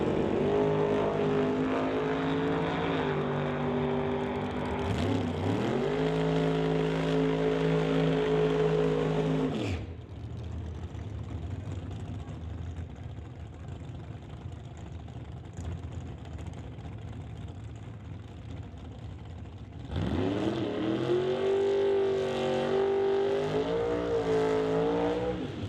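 A 1954 Studebaker drag race car with a 598 cubic inch engine at a drag strip, a loud rough idle rising into a roaring launch, easing to a distant drone before another car thunders away.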